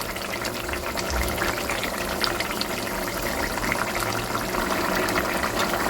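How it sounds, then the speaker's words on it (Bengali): Egg curry gravy boils hard in a pan over a high gas flame, giving a steady, dense bubbling hiss that stays loud and even throughout, close up with no speech. "জল দেওয়ার পর গ্যাসের ফ্লেমটা হাইতে দিয়ে আমি চার থেকে পাঁচ মিনিট ঝোলটা একটু শুকিয়ে নেব"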